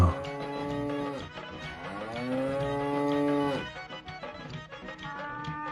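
A cow gives a long, close, loud moo with rising and falling pitch, a short break, then another drawn-out low call, followed by quieter lowing.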